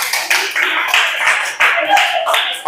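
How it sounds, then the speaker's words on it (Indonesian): Applause from a group of students in a classroom, close and loud, with clapping in uneven bursts and a voice speaking over it. "tepuk tangan yang meriah untuk kelompok Garuda"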